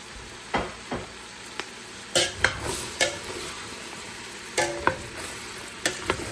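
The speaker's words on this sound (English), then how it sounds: "you're going to cook this for about 5 minutes in the bacon grease" Onion fries in bacon grease in a pan with a steady soft sizzle, punctuated by repeated scraping stirs of a utensil at close range.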